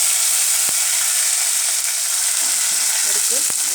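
Curry leaves frying in hot oil for a mutton curry, giving a steady, bright sizzle that fills the whole moment, with a couple of faint clicks and soft stirring touches near the end.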